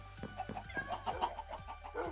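Repeated clucking from a chicken in the video game Minecraft, a series of short, fairly close clucks in an uneven rhythm, heard alone without talk.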